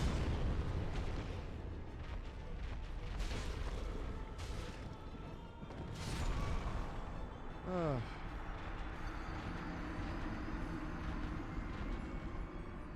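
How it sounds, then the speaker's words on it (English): Explosions in a video game, several booming bursts with a falling whistle-like tone near the middle, set against rumbling background and game noise, with a voice talking over parts. "That's an explosion."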